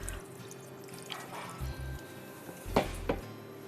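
Broccoli florets being rinsed in water for a chicken divan, with faint pouring and dripping, a couple of louder splashes near the end over a steady low hum.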